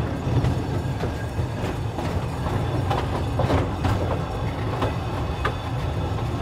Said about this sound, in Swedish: Jag lägger på lite broms här nu.